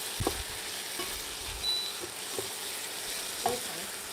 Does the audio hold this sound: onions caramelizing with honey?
yes